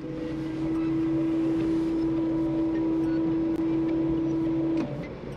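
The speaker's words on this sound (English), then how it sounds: "To use rear sprinklers, simply pull this lever and hold." The rear window washer pump of a 2002–2012 Ford Fusion runs with a steady, close electric whine for about four seconds, set over a continuous hum from the car, then cuts off when released.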